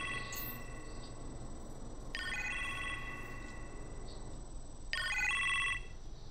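A telephone rings late at night inside the Iron Man VR game, two clear ringing bursts spaced a few seconds apart over a steady low background hum.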